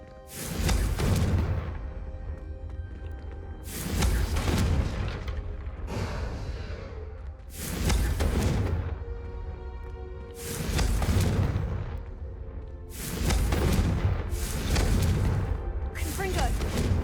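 The Confringo fire spell in Hogwarts Legacy fires in a series of about five heavy booming blasts, evenly spaced a few seconds apart. Each blast is loud with a rumbling tail, and voices speak between them.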